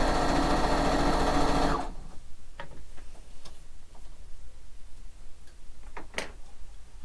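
A sewing machine stitching a quilt runs steadily and loudly for about two seconds, then stops, leaving faint scattered ticks and clicks in a quiet room.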